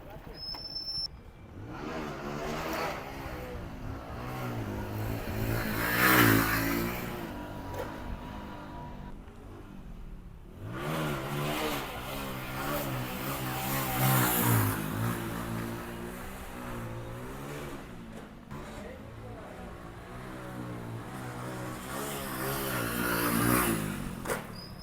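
Motorcycle engine revving hard and shifting into second gear during beginner wheelie stunt practice, a loud sustained drone rising and falling in pitch, with a brief drop near the shift, close up and continuous.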